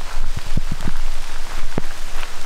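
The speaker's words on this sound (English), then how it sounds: "You can hear the raindrops just hitting the leaves and the grass." Rain falls on leaves and grass in a local park in Beaverton, a steady close patter with a few sharper drops landing near the microphone.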